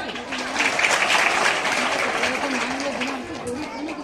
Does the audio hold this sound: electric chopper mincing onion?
no